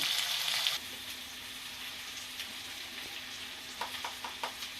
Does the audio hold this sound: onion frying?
yes